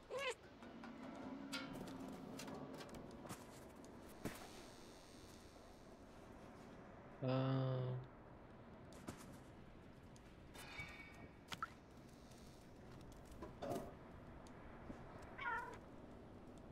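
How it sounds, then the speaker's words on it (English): A cat meows in the video game Stray: one loud, clear meow stands out midway over a low ambient game bed, with faint scattered clicks and soft game sounds around it. "It's a cat."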